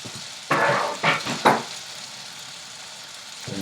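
Zucchini, bacon and broccoli hit a hot pan with a few loud sizzling bursts as they are tossed in, then settle into a quieter steady frying hiss.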